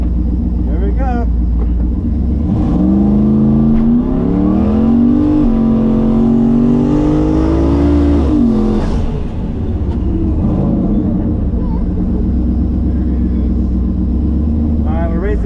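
Turbo LS drag car launching hard and accelerating, a loud rising engine roar that climbs in pitch for several seconds, then falls back to a rumbling drone, heard from inside the car.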